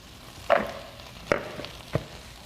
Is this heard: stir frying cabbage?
yes